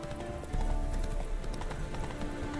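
Hoofbeats of Roach the horse in The Witcher 3, a rapid, even clip-clop of trotting hooves close by, continuous over a low ambient bed.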